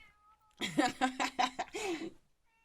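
A cat lets out a drawn-out, wavering series of meows close by, loud and insistent, with no talking.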